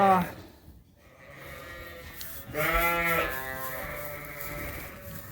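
Newborn lambs bleat in a barn, one short call at the start and a longer, louder wavering bleat a few seconds later, each trailing off into quieter background.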